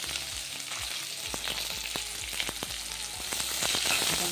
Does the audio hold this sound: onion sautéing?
yes